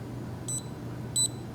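Two short electronic beeps from a small microbit-compatible gadget, each a quick high double-tone burst, spaced about half a second apart over a quiet background hum.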